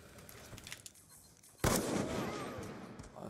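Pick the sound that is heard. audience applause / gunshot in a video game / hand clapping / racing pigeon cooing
gunshot in a video game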